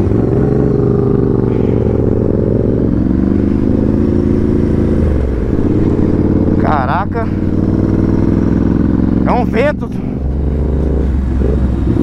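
A Ducati 796 motorcycle fitted with a titanium exhaust revs and accelerates loudly through rising gear pulls, the engine note close and dominant while a rider talks briefly over it.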